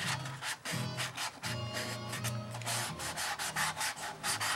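Close, rhythmic sanding of a fuse saddle for a Windy U Master 830 harmonica, with steady back-and-forth rasping strokes repeating for several seconds with no talk.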